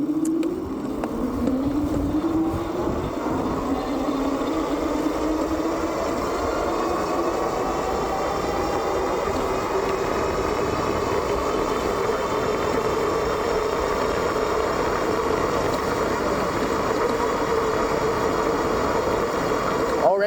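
Freesky Ranger M-540 e-bike on throttle only with both motors running, a steady whirring drone with a rising whine as speed builds, continuous and loud.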